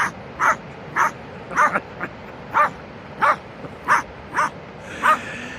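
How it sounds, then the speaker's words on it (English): A dog barks repeatedly at a steady pace, about nine short, sharp barks with brief pauses between, fairly close and clear. "Just lying there barking at the rock, look at him."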